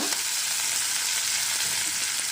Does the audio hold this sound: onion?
yes